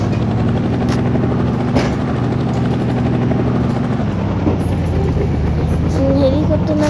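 A helicopter drones in the video game Indian Bike Driving 3D, its engine and rotor making a steady loud hum across the whole stretch with slight shifts in pitch. Game music may play beneath it.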